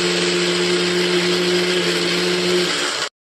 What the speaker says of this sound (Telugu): చల్లారిన తర్వాత వీటిని అయితే మిక్సీ జార్లో వేసుకొని మెత్తగా గ్రైండ్ చేసుకోవాలి.